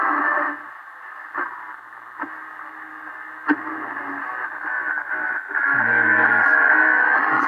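A 1932 Emerson 25A tube radio with a bad speaker picks up a local station, giving a boxy, tinny broadcast with crackles and a few sharp clicks, steady and moderately loud.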